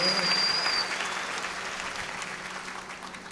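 An audience claps steadily for a few seconds, a dense patter of applause that gradually fades a little.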